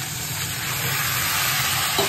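Fish heads and bottle gourd are stirred in a frying pan, giving a close, continuous sizzle with a steady crackling texture and no voices.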